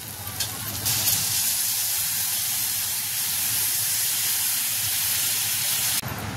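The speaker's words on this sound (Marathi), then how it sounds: "आणि 1 ग्लास त्यामध्ये आपल्याला आता पाणी टाकायचंय।" Sizzling Bombay duck and potato curry in a pan, a loud, close, steady frying hiss that holds at an even level, then cuts off abruptly near the end, with no voices.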